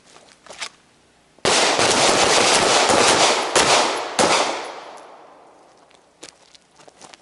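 Handguns fire during a ready-sights threat drill at a range: a few isolated sharp cracks, then a dense, loud volley of overlapping shots lasting several seconds that tapers away, followed by scattered single reports.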